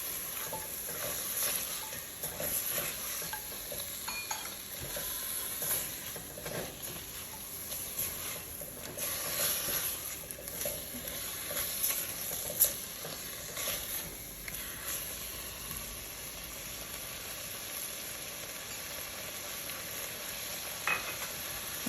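Snow peas and mushrooms stir-fried in a pan for a shrimp with lobster sauce dish, giving a steady close sizzle with scraping stirs and clatter throughout, no talking.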